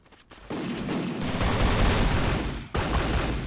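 Gunfire in the mobile game Free Fire comes as dense, loud bursts of shots, a brief gap before the firing resumes, with no voices over it.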